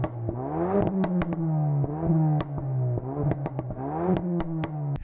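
Ford Focus ST engine revving in sport mode with sharp exhaust pops and crackles scattered through the rise and fall of the revs, close and loud, with no talking.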